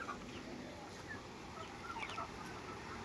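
Sonali and desi chickens on a poultry farm cluck softly and sporadically in short calls over a faint steady background hum, with no talk heard.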